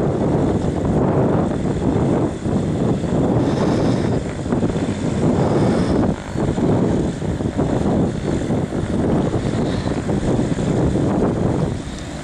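A loud, steady airplane engine drone passes overhead, its roar swelling and dipping slightly, with wind buffeting the microphone throughout.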